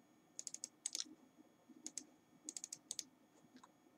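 Keys tapped on a computer keyboard while writing R code, in quick bursts of several clicks with short pauses between, close and fairly quiet.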